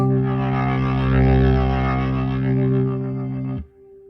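A sustained, gritty overdriven organ chord from a Boss Organ Lunchbox pedal rings loud and steady for several seconds, then cuts off abruptly, leaving a faint decaying tail.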